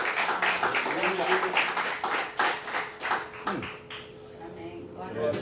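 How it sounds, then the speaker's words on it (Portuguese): A church congregation at Igreja de Nova Vida do Catete claps together in a dense burst of applause with voices mixed in, the clapping thinning out toward the end. "Dê uma salva de palmas ao Senhor."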